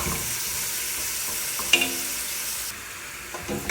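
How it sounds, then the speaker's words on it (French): Onions frying in a pan for Algerian couscous, with a steady soft sizzle and occasional scraping stirs and clinks of a utensil, close by, with no talk. "On laisse les oignons cuits jusqu'à le disparaître"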